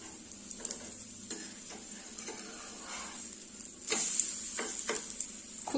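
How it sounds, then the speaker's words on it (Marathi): Vegetable pancakes roast on a pan under a steady hiss, with occasional taps of a spatula as they are turned and a louder sizzle burst partway through, close by and without talk. "तर मस्त अलटून पलटून आपल्याला हे छान असे भाजून घ्यायचे आहेत."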